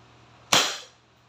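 A WinGun 702 CO2 airsoft revolver fires a single shot in single action: one sharp, close crack after a quiet start, with a short hissing tail.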